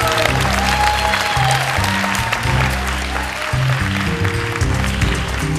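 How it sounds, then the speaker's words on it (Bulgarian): Loud applause from an audience at the Miss Bulgaria 2013 beauty pageant fills the room while music with a steady bass line plays underneath. "Силни аплодисменти за Адриана!"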